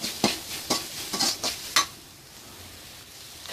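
Lemon rice with turmeric and salt is stirred in a pan: five or six quick, sharp scrapes of a spoon over a faint sizzle, then a quieter sizzle alone.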